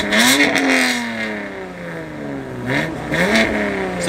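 A BMW car engine gets light revs, several short blips that rise and fall in pitch over a steady idle, close and fairly loud with no talk.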